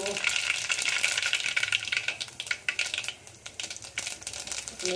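Cumin seeds, added with mustard seeds, sizzle in hot oil as a tempering for a Gujarati brinjal dish, giving a bright, crackling fry with scattered pops that thins out toward the end.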